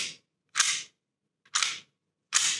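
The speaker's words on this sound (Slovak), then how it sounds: "Potom si obťahneme záver." A pistol's slide is pulled back before cleaning, making three sharp metallic bursts about a second apart, close and crisp with silence between them and no talking.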